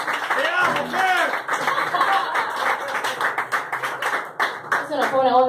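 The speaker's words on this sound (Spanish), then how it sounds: "Un aplauso, por favor." An audience at a live rock show claps along with people talking and laughing nearby. The clapping is dense and crowded, with voices prominent over it throughout.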